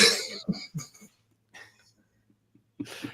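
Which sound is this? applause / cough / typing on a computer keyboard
cough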